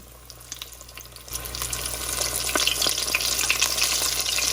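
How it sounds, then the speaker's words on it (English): Chicken frying starts abruptly and builds into a loud, crackling sizzle in hot oil, continuing steadily with no talking. "so let's get frying"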